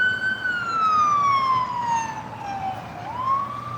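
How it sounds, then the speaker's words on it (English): Ambulance siren wailing as it passes along a road, one long sweeping tone gliding slowly down in pitch, then turning and rising again, loud and clear over traffic hum. "There goes the ambulance."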